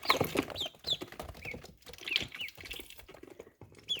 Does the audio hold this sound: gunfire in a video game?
no